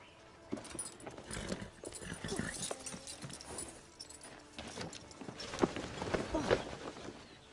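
Horse hooves clip-clop in a horror film scene, irregular thuds mixed with jangling and rustling, moderately close and fairly quiet, with voices in the background.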